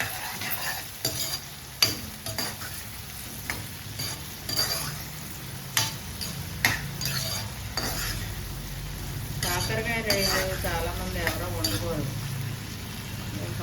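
Prawns frying in a pan, with a steady sizzle under repeated scraping and stirring clatter of a ladle against the pan, close up, while a voice speaks briefly over it.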